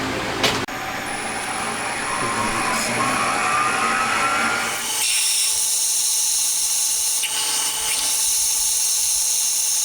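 A 7.5 mm drill bores holes in a homemade DOHC cylinder head for an FIM152 engine, a loud, close, steady high-pitched whine that cuts off midway, leaving a thinner tonal hum.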